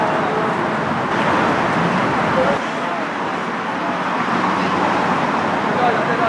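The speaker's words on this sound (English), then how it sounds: "Traffic jam nearing the end of the bridge." Heavy traffic crawls near the Manhattan end of the Brooklyn Bridge, a dense, loud, steady roar of car and engine noise that fills the whole stretch, with a brief dip midway.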